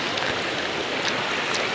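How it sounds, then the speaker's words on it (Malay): Heavy rain pouring down outdoors at a jungle river retreat near Kuala Lumpur, a dense, steady hiss of falling water with no pauses and no voices. "Tengok kat luar ni, hujan lebat guys."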